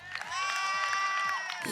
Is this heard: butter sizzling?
no